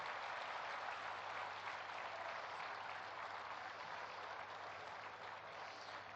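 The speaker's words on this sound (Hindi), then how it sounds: "एक दूसरे के उत्साहवर्धन में तालियों की गड़गड़ाहट कर रहे हैं" A large audience of devotees claps at the inauguration of the Swarved Mahamandir, producing a continuous, even roar of applause that holds steady throughout over a faint low hum.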